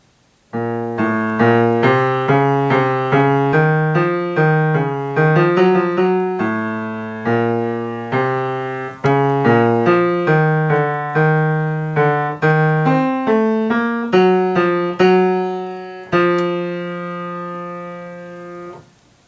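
A piano plays a fugue accompaniment, a steady, contrapuntal line of detached notes with a bright, organ-like tone, continuing for about twenty seconds before a final held note.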